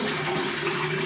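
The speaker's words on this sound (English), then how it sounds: "Just putting hot water on the top of the soap there" Hot water pours onto the top of a tub of Barrister and Mann Ravish shaving soap, giving a brief steady splashing hiss with a faint hum underneath.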